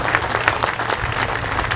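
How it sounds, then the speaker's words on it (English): Dense applause from a crowd at an outdoor Memorial Day ceremony in a park, steady and energetic throughout with many overlapping claps. "Please give them a round of applause"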